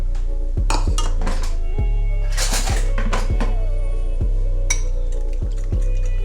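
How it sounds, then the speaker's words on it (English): Cornstarch being whisked into a cup of milk in a dish: regular clinking taps of a utensil against the bowl in an even rhythm, with some scraping and a faint voice in the background. "I'm gonna go ahead and mix up my cornstarch with 1 cup of milk"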